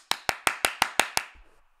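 Seven sharp hand claps in an even, quick rhythm, loud and close to the microphone, each with a short decaying tail, then quiet.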